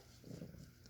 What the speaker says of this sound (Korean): 다운이가 으르렁거리고 있어요